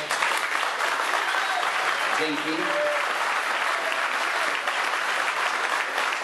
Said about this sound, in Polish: tego właśnie potrzebujemy, takich właśnie gorących oklasków.